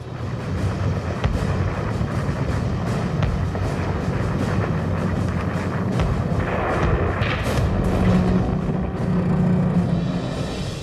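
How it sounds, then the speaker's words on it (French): Heavy naval cannon fire from the battleship Tirpitz in a fjord booms again and again in a dense, continuous barrage, deep thuds overlapping with sharper cracks, loud and close. "Depuis le pont du Tirpitz, les canons crachent un déluge de feu."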